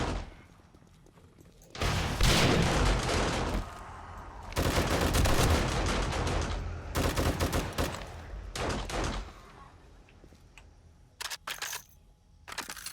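Turret gunfire rattles in the 7 Days to Die video game during a Horde Night fight, loud sustained bursts of rapid automatic shots with short pauses, then scattered shorter volleys.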